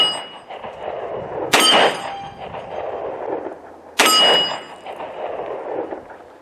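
Two loud shots from a Ruger LCR .38 Special revolver, each followed by a ringing clang of a round striking a steel plate, spaced about two and a half seconds apart with echoing decay outdoors.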